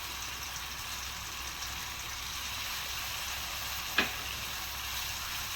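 Egg curry masala with turmeric, ground and crushed red chili, dried coriander, cumin and salt sizzles steadily in a pan while being stirred, a constant close frying hiss with one sharp scrape of the spoon.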